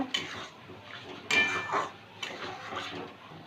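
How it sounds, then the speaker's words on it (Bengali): Potatoes stir-fried in a pan for egg curry, heard as metal spoon scrapes and clanks against the cookware in a few distinct strokes over a faint background, with no talking. "আলুটা দিয়ে একটু কষিয়ে নেব"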